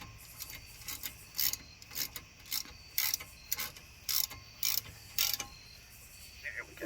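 Ratchet tightening a front brake bolt on a 2011 Jeep Grand Cherokee, a steady series of short clicking strokes repeating about twice a second, close and clear with no speech.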